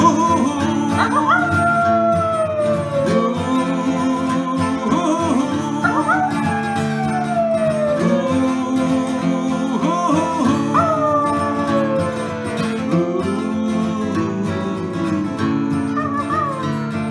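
A singing voice imitates a wolf, drawing out long rising-and-falling howls again and again over backing music, loud and close.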